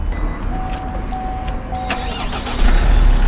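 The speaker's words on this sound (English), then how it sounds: "starting that vehicle up, flat dead in seconds, no problem at all" A flat car engine jump-started with a booster pack turns over and fires up, a close, loud start that settles into a steady, low idle at the end, no talking.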